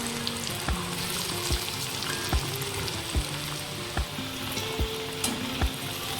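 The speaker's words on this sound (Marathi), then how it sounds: "तर आता हे आपल्याला मंद आचेवरती वड्या तळून घ्यायच्या आहेत." Kothimbir vadi, Maharashtrian coriander fritters, frying in hot oil over low heat: a steady dense sizzle punctuated by about eight evenly spaced soft thuds and clinks of a utensil, close, without talking.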